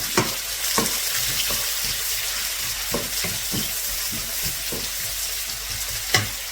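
Two medium onions with garlic sizzle steadily in a pan while being stirred, with a few sharp scraping knocks of the spoon against the pan over a constant frying hiss.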